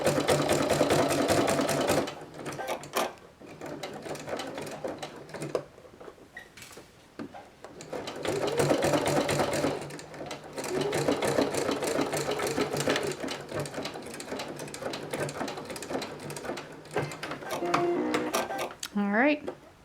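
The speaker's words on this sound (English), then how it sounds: "now I'm going to sew along this seam allowance" A sewing machine sews along the seam allowance of a plush toy in several bursts of rapid, rhythmic stitching separated by short pauses, with a person talking in between.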